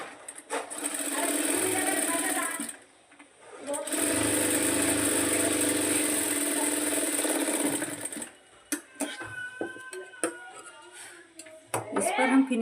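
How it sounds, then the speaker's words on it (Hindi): A sewing machine stitches a long sleeve in fast, steady bursts, whirring loudly for several seconds, pausing, then running again before giving way to scattered handling clicks and taps near the end. "एक पैर की सिलाई लगाते हुए हम इसको सीधा सिल देंगे।"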